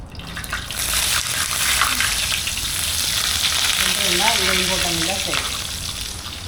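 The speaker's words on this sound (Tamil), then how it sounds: "கொதிக்கிற எண்ணெயில் தூக்கி அப்படி போடுவான்" Loud, dense frying hiss of food for maqluba in hot oil, continuous and close, with a brief faint voice partway through.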